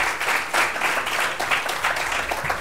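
Audience applause at a gratitude storytelling event, a continuous, dense patter of many hands clapping at steady volume throughout.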